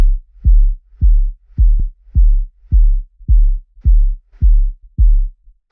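A deep kick drum with a 30 Hz high-pass filter hits nine times in a steady, evenly spaced rhythm, each thump loud, short and boomy with a quick decay, and nothing else plays.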